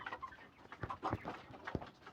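Small chicks peep and cheep in short, scattered bursts close by, with faint clucking and shuffling mixed in.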